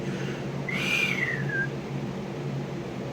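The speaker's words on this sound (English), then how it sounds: "He whistled." A person whistles a single short sliding note that rises then falls, lasting under a second, clear and close over a quiet background hum.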